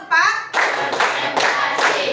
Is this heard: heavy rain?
no